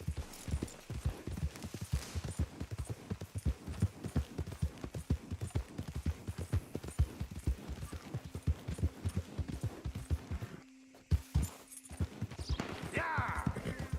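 A horse in the video game Red Dead gallops in a fast, steady clip-clop rhythm at a faint level and stops briefly near the end, with a little speech.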